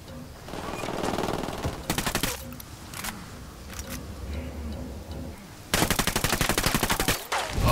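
Automatic gunfire in the video game Ghost Recon Wildlands: short rattling bursts early on, then a longer, louder rapid-fire burst near the end, with quieter distant shots between.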